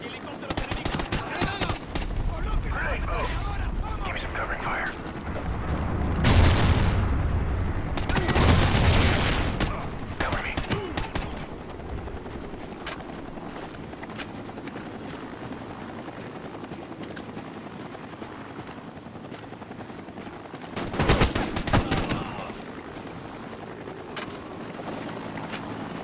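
Gunfire in Call of Duty Ghosts, with bursts of automatic fire and heavy booming shots among a steady helicopter-like drone, loudest in clusters early and again near the end, with occasional voices.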